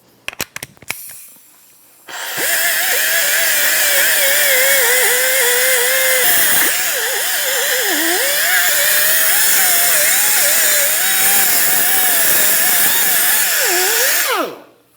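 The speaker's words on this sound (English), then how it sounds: "you might have to get an actual little buffer, which I'm going to use real quick" A small power buffer whines loudly and steadily for about twelve seconds while scrubbing rust off a 2013-2018 Toyota RAV4 brake hub, its pitch dipping under load, after a few clunks as it starts.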